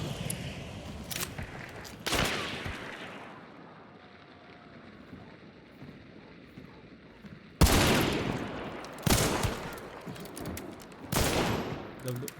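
Gunshots fired through walls in the video game Hunt: Showdown using FMJ ammo, a few sharp loud reports spaced apart over quieter ambient background.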